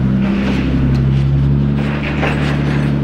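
Nissan Skyline dragging a damaged tire, heard as a steady, loud, low mechanical drone with constant humming tones that run unbroken for about three seconds.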